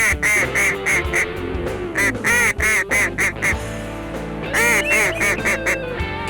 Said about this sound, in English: these ducks are working in here right, Phil.